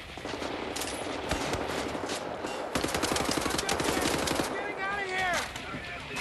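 Automatic gunfire from the video game Wolfenstein: The New Order during a prison break, with rapid bursts and fusillades rattling loudly and continuously and a voice speaking over the shooting.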